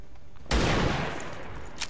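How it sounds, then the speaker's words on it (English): A sharp, loud burst of gunfire aimed at a turret in XCOM 2 Long War 2 erupts after a brief quiet moment, then rings out and decays. "Maybe you just shoot the turret this turn."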